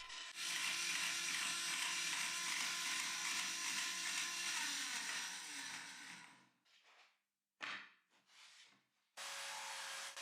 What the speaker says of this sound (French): Je peux ensuite allumer la scie et faire avancer lentement la plaque d'insertion dans la lame